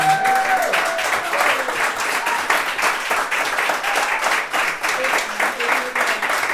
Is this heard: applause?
yes